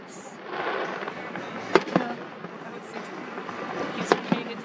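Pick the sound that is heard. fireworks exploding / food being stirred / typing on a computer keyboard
fireworks exploding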